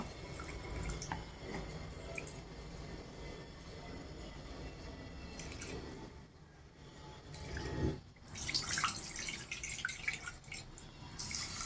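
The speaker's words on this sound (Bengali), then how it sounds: "ডালটা আমি এখন ভালো করে ধুয়ে নেব।" Water running and dripping while masoor lentils are washed in a kitchen, a steady wash of splashing with a louder burst of pouring and sloshing near the end, fairly quiet and close, no voices.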